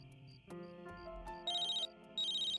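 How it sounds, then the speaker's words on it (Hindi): A phone ringtone plays a bright, repeating electronic melody with higher beeping tones, fairly faint and alone, with no voices over it. "लगता है किसी का फोन आ रहा है।"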